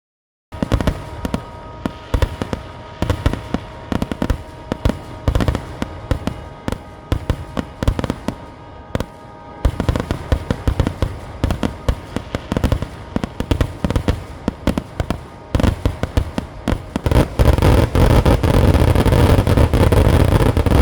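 Fireworks at Uthralikavu Pooram temple festival boom and crackle in a dense, continuous barrage, rapid overlapping blasts growing louder and thicker toward the end, with no talking.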